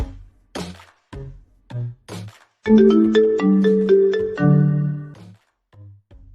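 A short electronic phone ringtone melody plays for a couple of seconds, framed by sharp clicks and taps before and after.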